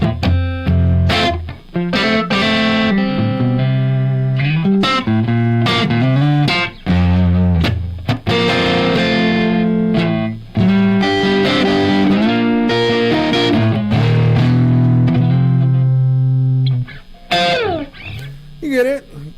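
Electric guitar chords and riffs ring loud and sustained through an amplifier with an echo effect, playing continuously with brief pauses.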